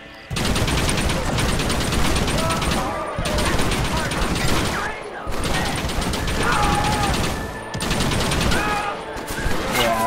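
A mounted gun fires in long, rapid bursts with brief pauses between them during the assault on Fort Mercer in Red Dead Redemption, the shots loud and close.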